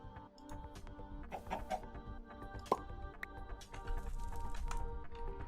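Chickens in the Minecraft modpack FTB Interactions cluck softly and irregularly over a constant low hum, with a few sharper clicks mixed in.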